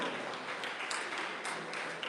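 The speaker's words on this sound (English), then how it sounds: "Let's applaud them." A school audience at a science day celebration gives presenters a round of applause, a steady wash of many hands clapping at moderate distance, fairly soft and even throughout.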